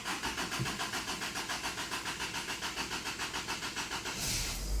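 The engine of a 1985 Toyota pickup idles with a quick, even chugging pulse at moderate level and faint hiss. It swells louder near the end as if throttled up.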